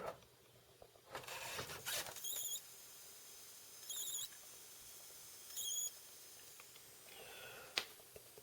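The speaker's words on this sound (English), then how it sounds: "you can hear something on the main board, sort of high frequency chirping." Faint, high-pitched chirps from the main board of a faulty Samsung 4K smart TV with no sound and no backlight come in short bursts, about three or four times, over a low electrical hum with a couple of louder clicks.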